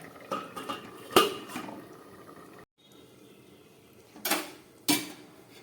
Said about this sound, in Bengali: এবার আমি একটা ঢাকা দিয়ে দিচ্ছি।